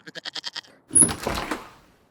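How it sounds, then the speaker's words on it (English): A goat bleats in a Christmas Eve stage show: a quick stuttering run of short bleats, a brief pause, then one longer wavering bleat, close and clear with nothing else heard. "Merry Christmas, Rudolph, to the sweetest little goat in the whole wide world."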